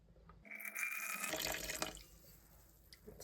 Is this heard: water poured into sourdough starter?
yes